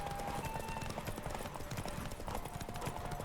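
Roach, a horse in The Witcher 3, gallops with steady rapid hoofbeats clip-clopping under a bed of game music and ambience, moderately close and fairly quiet.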